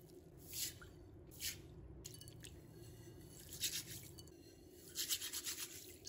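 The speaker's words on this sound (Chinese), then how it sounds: "在清洗绿豆的时候，还是需要轻轻的用手去揉搓绿豆的，这样呢可以更好的清洗它，使它产生摩擦，搓洗掉污垢" Mung beans rubbed and washed by hand in water, soft wet squishing and dripping that comes in short bursts, quiet and close, with no voices.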